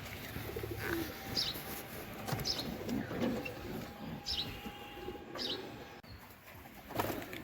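Pigeons sick with tal disease in a loft give soft, intermittent coos and faint chirps over a quiet background, with a brief flutter of wings.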